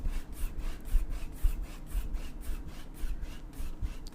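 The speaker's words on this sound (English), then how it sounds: "The soothing painting ASMR sounds." Steady scratchy brushing strokes repeat in a loose rhythm, close and fairly quiet, like bristles dragging across a rough surface with no voices.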